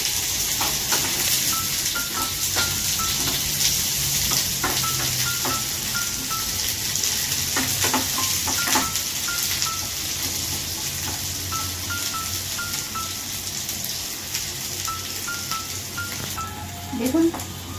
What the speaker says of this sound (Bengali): দেখুন, পেঁয়াজগুলো হালকা ফ্রাই হতে শুরু করেছে